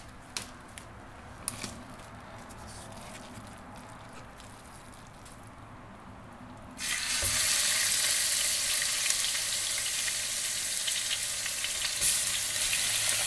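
Lean ground pork, 93 percent lean, dropped into a pot for spicy keto Zuppa Toscana soup: a few quiet clinks and taps, then a sudden loud, steady hissing sizzle that fills the rest.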